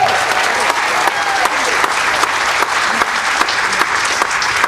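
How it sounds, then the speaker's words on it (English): Audience applause at a high school mariachi concert with a Juilliard-trained pianist, a dense steady roar of many hands clapping, loud and continuous, with scattered sharper claps and faint crowd noise. "Let's give him one more round of applause, please."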